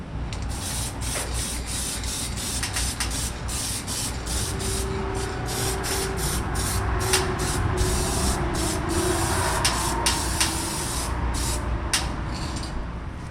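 An aerosol can hisses in repeated short bursts while paint goes onto bolts on a 1969 Chevy C10, each spray pulse sharp and close, separated by brief pauses, no talking.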